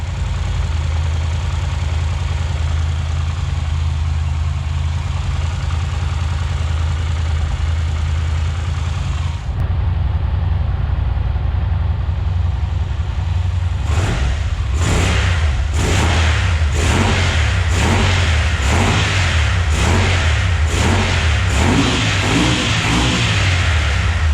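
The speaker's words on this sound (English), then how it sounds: "Let's let it warm up a bit and let's see if we can give it a gas." A Yamaha TDM 850 motorcycle engine idles steadily and loud at close range, then gets a series of sharp throttle revs that rise and fall about once a second.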